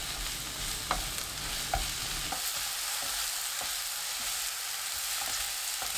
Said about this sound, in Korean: 기름이 지글지글 끓으면 새송이버섯 넣고 센 불로 2분 볶습니다